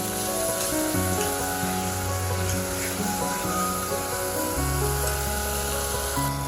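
Cucumber curry simmering with yogurt in a pan gives a steady, close sizzle that runs the whole way through, with a constant hum behind it and no voices.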